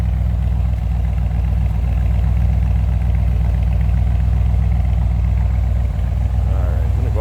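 A 1964 Chevrolet Corvette convertible engine runs steadily, a loud, even low rumble at idle throughout, heard up close from the engine bay with no talk over it.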